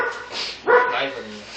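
A dog gives a single sharp bark, close and loud, under people talking over it.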